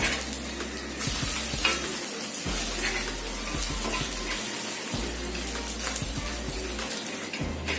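A spoon stirs and scrapes potato and egg chutney in a hot pan, with close, continuous sizzling and repeated rhythmic scraping strokes.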